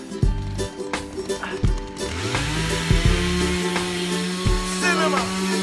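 A chainsaw with freshly sharpened chains cuts wood outdoors, the engine revving up into a sustained whine with knocks and thuds of handling, while people talk nearby.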